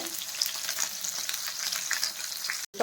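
Okra (lady finger) frying in oil over a flame with curry leaves, a steady close sizzle with light stirring that cuts off abruptly near the end.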